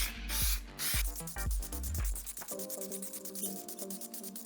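An aerosol can sprays bursts of metallic purple base coat onto an Arai GP6S motorcycle helmet, with short hissing puffs and a faint rattle between them, close and quiet.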